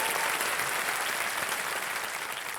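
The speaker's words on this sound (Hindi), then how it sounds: "तालियां बज जाएं इनके लिए।" Studio audience on the KBC Under 25 quiz show breaks into steady, dense applause that stays loud and full for the whole stretch, easing slightly toward the end, with no voices over it.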